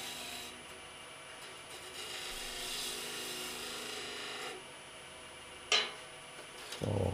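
A 13 mm bowl gouge cuts wood on a lathe, a soft steady scraping rasp that fades out midway, followed by a sharp click and a short knock near the end.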